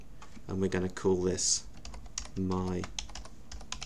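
Keys clatter on a computer keyboard as someone types code into a new R script, the irregular clicks running beneath a voice that talks over much of the clip.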